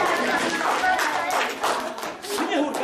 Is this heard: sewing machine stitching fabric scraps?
no